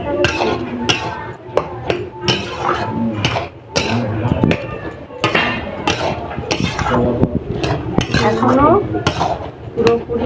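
A metal lid lifted off and set back on a cooking pot of taro boiling with hilsa fish head, giving repeated clanks and clinks under continuous talk.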